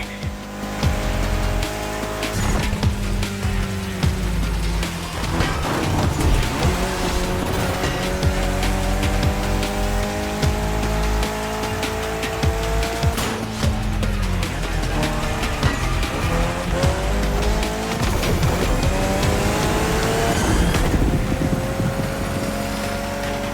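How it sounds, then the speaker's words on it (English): A Mitsubishi Lancer Evo X races in The Crew Motorfest video game, its engine roaring loud and steady through repeated gear shifts, with tire squeal and dense game sound layered throughout. "especially your new ride, Toji's Mitsubishi Lancer Evo X"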